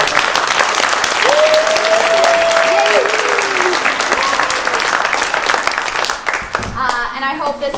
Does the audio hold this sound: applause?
yes